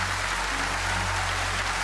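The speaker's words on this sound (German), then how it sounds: "Ja, lass doch die Leute klatschen." Studio audience applause on a German television comedy show, a steady even wash of clapping held at a constant level for the whole stretch, with no voices over it.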